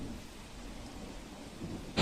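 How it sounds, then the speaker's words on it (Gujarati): Heavy rain falls steadily in a continuous hiss, with a low rumble of thunder underneath and a sudden louder burst at the very end. "વલસાડ જિલ્લામાં ગત રાતથી જ ભારે વરસાદ વરસી રહ્યો છે"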